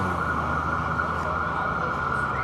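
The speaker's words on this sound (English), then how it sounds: "Official siren" An emergency vehicle siren wails on a Manhattan street in New York City, a steady continuous tone with faint city noise beneath.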